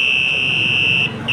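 A vehicle horn gives a shrill, steady, high-pitched whistle-like tone that blows continuously, briefly dipping near the end before resuming, loud and close with no talking.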